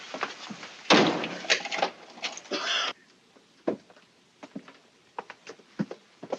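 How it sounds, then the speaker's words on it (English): Cabin door aboard a ship being pulled shut with a heavy thud, then a rattle and scrape of handling, followed by a quieter series of small clicks and knocks as it is locked. "Lock the door, will you?"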